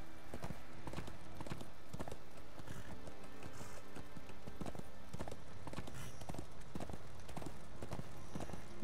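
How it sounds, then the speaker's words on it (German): Horse hooves clip-clop in a steady trotting rhythm in the video game Darksiders II, set against a faint game ambience. "Oh, aber dieses Pferd."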